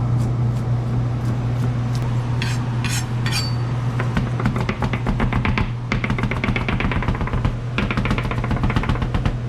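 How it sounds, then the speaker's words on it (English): Knife chopping parsley on a board in a home kitchen making tacos, a rapid run of close, sharp taps over a steady background hum, with no talk. "Parsley chop."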